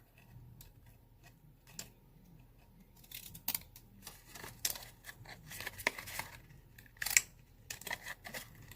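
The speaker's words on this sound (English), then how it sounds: "These are not the best scissors." Scissors snip paper in quiet, irregular crisp cuts and clicks, some close together and some spaced apart, during a paper craft project making file folder pocket tags.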